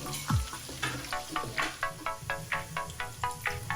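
Chicken for chicken afritada sautés in a pan with onion. Close, rhythmic bursts of scraping and sizzle repeat about twice a second, with a low steady frying hiss underneath.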